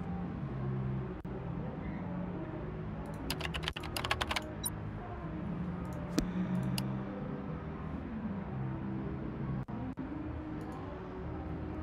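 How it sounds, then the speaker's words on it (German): Keys clatter on a computer keyboard in the video game Do not Feed the Monkeys: a brief flurry of typing, plus a few isolated clicks, faint over a steady low background hum. "Tippen die wieder."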